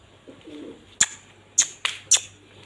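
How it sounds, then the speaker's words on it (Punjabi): A soft low coo from a pigeon, then four sharp bright chirps or clicks in quick succession nearby. "ਕਬੂਤਰ ਲੱਗਿਆ ਹੈ ਗੁੜਕਣ ਤੇ ਮਸਤੀ"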